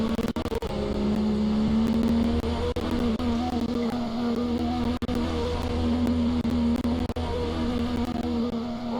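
Steady car engine drone from the Roblox-style driving game Driving Empire, a sustained humming tone with a few sharp clicks and slight dips, loud and continuous with no talking.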